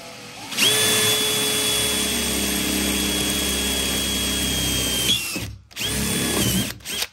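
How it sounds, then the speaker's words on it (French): A power drill bores through thick metal, its steady high whine running loud and close for about five seconds, then cutting out briefly before a second short burst. "je vais le tester tout de suite, je l'ai pas encore essayé. Je viens de le recevoir. Donc on va tester ça, je vais voir si ça perce vraiment bien"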